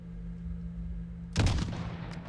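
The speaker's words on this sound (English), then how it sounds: "That's a 400 meter shot." A single sudden sniper rifle shot at long range in the Modern Warfare 2019 campaign cuts through a low ambient hum, then leaves a rumbling echo that fades out.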